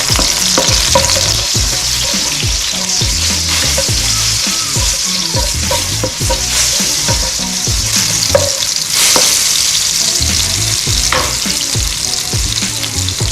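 Chili, salt and crushed garlic stir-frying in a pan, a loud, steady sizzle with continuous rhythmic scraping and stirring strokes close by.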